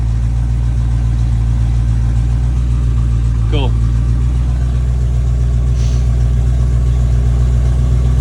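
A carb-swapped Ford F250 engine runs steadily through its break-in, a loud, constant low idle drone that never lets up, with someone briefly speaking over it.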